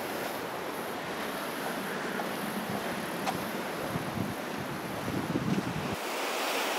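Surf churns and surges against a rocky headland in Noosa National Park in a constant rushing roar, with wind buffeting the microphone. There are no voices.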